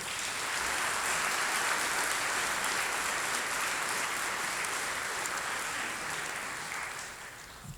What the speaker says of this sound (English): Can I get a round of applause for our senior executive board?